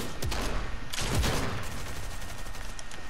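Pistol shots crack in a video game, a couple of sharp reports close together near the start followed by another burst, loud against ongoing game noise.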